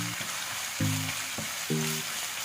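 Thinly sliced onions fry in a pan for a prawn biryani with a steady, close hiss. Brief tonal sounds briefly rise over the hiss.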